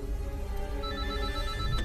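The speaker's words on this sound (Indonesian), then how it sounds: "tiba-tiba ponsel milik May berdering" A mobile phone rings with a steady electronic tone that carries on without a break over a dense, loud film soundtrack, with no voice.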